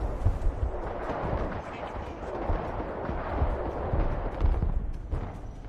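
Artillery fire in the real-time strategy game Broken Arrow, a steady rumble of distant shelling and gunfire under a person talking.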